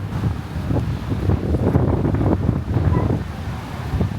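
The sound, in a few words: wind at Malibu Beach, Koh Phangan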